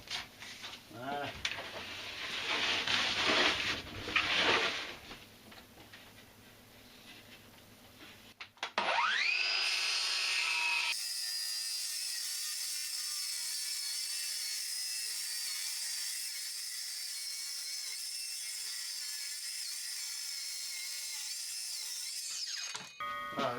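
Power sander running on a workpiece, first a rough grinding burst, then a high steady whine that holds for over ten seconds before cutting off, close and loud with no talk.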